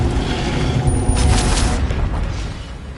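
A Hogwarts Legacy Incendio fire spell cast lands as a loud, rumbling whoosh and boom with crackling bursts that swell in the middle and slowly fade away.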